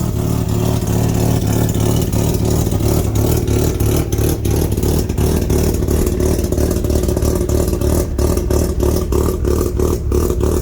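A 1994 Mazda Miata with a swapped-in 13B rotary engine runs loud and close, a continuous raspy drone with repeated rev blips and rattly pulses.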